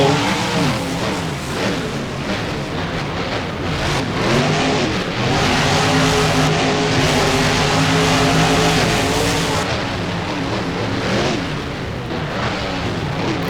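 Monster trucks in a BeamNG racing game roar off the starting line together. Their engines hold loud and steady with rising revs, and tires scrub and squeal as the trucks accelerate side by side with no talk.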